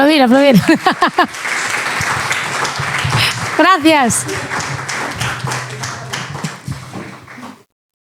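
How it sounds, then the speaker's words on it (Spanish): An audience at a community arts event claps together after a burst of talk, the applause building into a dense, steady patter that carries on for several seconds under occasional voices before stopping abruptly. "Venga, os espero. Aplaudir."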